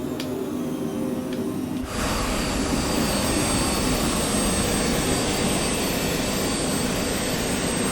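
Private jet engine roar in Microsoft Flight Simulator, a loud, steady whine and broadband rush that jumps in level after about two seconds and then holds evenly, with no voices.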